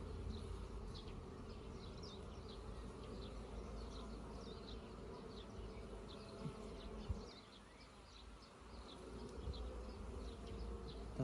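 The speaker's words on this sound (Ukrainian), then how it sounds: "Бджоли дуже багато." Dense, steady buzzing of many honey bees close by at an apiary hive in swarming state, a continuous swarm hum with scattered higher whines of individual bees flying past.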